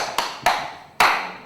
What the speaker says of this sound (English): Allow me clap for my friend here.